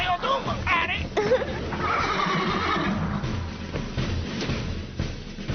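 A cartoon horse whinnies loudly with a rising then falling neigh, heard over background music and sound effects in a busy animated scene.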